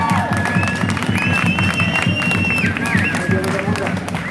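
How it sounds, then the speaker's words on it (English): Applause for Uncle Robbie Thorpe at a Free Palestine rally: a loud outdoor crowd claps and cheers over a low rumbling wash of noise, with voices mixed in. "A huge round of applause for Uncle Robbie."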